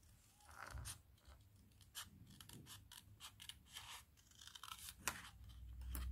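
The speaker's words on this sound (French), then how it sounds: "On va venir découper la forme" Scissors cutting out a paper shape for a photo album, faint and close, with irregular snipping and crisp paper rustling, a sharper cut near the end.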